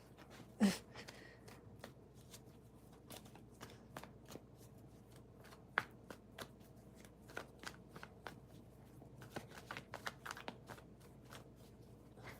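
Tarot cards being shuffled close by, a steady run of soft riffling flicks and taps over about twelve seconds, with one louder snap near the start and no talking.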